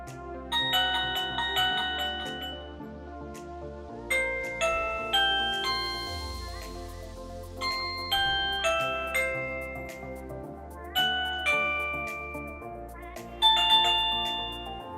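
An X9 doorbell plays a run of different chime melodies one after another, clear bell-like ding tones rising and decaying in separate phrases with a low buzzy undertone, close up and with no speech.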